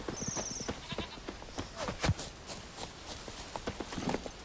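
Geralt's horse Roach galloping in The Witcher 3, a rhythmic run of hoof clip-clops at moderate distance under game ambience, with a brief tonal effect and short voice-like sounds mixed in.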